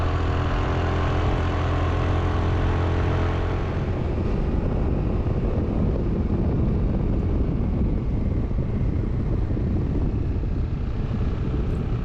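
A Yamaha NMAX Turbo scooter is ridden away from a village, a steady engine drone that turns into continuous loud rushing wind and road noise as it picks up speed.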